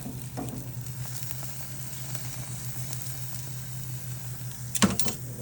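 Steaks searing on a grill give a steady close sizzle with faint crackle throughout, and a brief louder scrape or clatter near the end.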